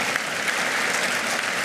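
Steady audience applause for Kate Ruby, a prison officer of 28 years and co-founder of the Clink, at the Longford Prize 2025 ceremony, a dense even clapping from a crowd that holds throughout without any talking.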